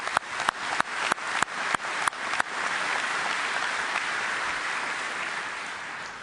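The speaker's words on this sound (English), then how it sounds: "Big round of applause for the singers." Audience applause for singers at a firefighter conference opening ceremony (FDIC 2011): a few sharp claps at first, then steady, dense clapping from a large crowd that holds loud and slowly fades a little.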